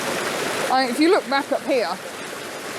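Several small waterfalls pour over slippery rocks, making a steady broadband rush throughout, with someone talking over it.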